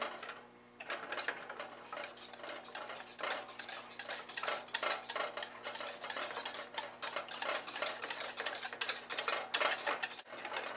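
Shredded block cheese being stirred by the handful into a roux for homemade mac and cheese, a steady busy scraping and clinking of utensil against pot that keeps going with no talk over it.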